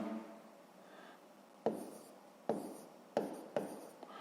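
Chalk or marker strokes on a board during a sixth-grade maths lesson, four sharp tapping strokes with short scratchy tails spaced irregularly, close and fairly quiet with no talking.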